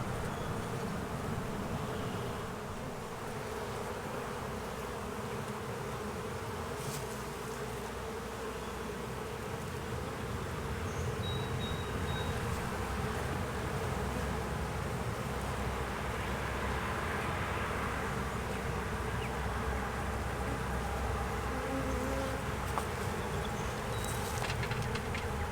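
Honey bees hum in a dense, continuous drone at an open hive during a spring hive box upgrade, steady and close for the whole stretch with no talking.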